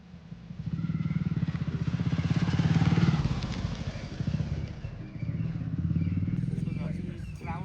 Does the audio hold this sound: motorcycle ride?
yes